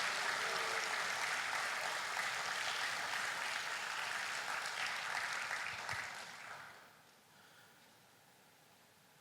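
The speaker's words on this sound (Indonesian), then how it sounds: "Mari kita berikan tepuk tangan yang paling keras" A church congregation breaks into loud, sustained applause that holds steady for several seconds, then fades away into near silence.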